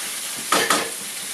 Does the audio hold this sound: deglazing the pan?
yes